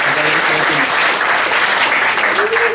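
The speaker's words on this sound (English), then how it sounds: "round of applause, please." Wedding dinner guests break into sustained, dense applause filling the room, with a few voices faintly audible beneath the clapping.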